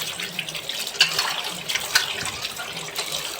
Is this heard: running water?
yes